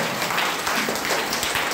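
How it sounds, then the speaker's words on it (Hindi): An audience at a DXN company gathering applauds loudly. Dense, continuous clapping fills the whole moment at an even, strong level, with no talk over it. "तो डिएक्शन के लिए जोरदार ताली बजाइए सब लोग"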